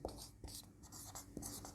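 Someone writes by hand during a Hindi grammar lesson, making quiet, soft scratchy strokes in short bursts with brief pauses between them; no one speaks.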